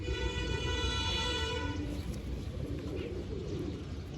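Pigeons cooing close by in a loft of large, older birds, soft rounded coos repeating under a steady background hum with a faint tonal whine early on.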